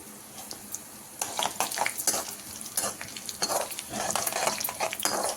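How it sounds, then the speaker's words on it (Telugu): Dried red chillies, broken by hand, fry in hot oil in a pan for a Malabar spinach dal tempering, giving a steady sizzle that swells after the first second, with bursts of spatter and stirring scrapes throughout. "ఒక 4 ఎండుమిరపకాయలు తుంచి వేసేసుకోవాలి. ఇది కూడా మంచిగా ఫ్రై చేసుకోవాలండి."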